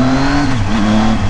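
A remapped Triumph Tiger 800 motorcycle revs on a test ride, a brief loud engine note that rises and dips as the throttle changes, close up with no talking.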